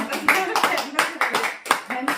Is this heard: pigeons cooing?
no